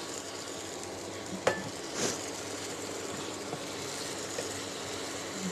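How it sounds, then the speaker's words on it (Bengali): Fish fried in spice masala in a pan gives a steady, close sizzle, with a couple of brief utensil clinks and a stir scrape partway through and no talking. "এবার আমি ভেজে রাখা মাছ আর এটা দিয়ে দেব"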